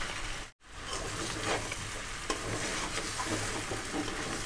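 Jackfruit pieces cooking in mutton fat masala sizzle and crackle steadily in a hot pan while being stirred and scraped, with a brief pause near the start, close and moderately quiet.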